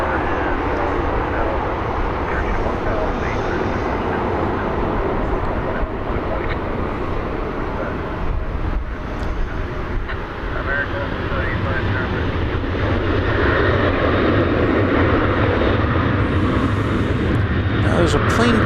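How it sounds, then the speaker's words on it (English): A jet takes off at DFW Airport, its engine roar a broad, sustained rumble that swells slightly toward the end, fairly distant and partly masked by people talking throughout. "Now there's a plane taking off for Puerto Vallarta. I can hear it"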